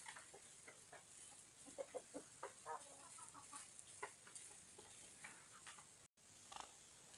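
Chickens and young roosters in a coop cluck softly and intermittently, faint scattered calls over a quiet background hiss.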